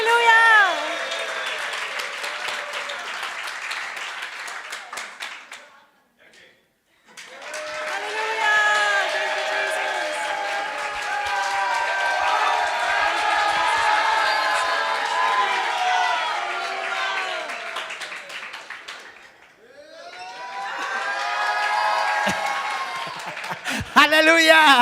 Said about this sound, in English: Shout and give a wonderful, glorious clap to Jesus.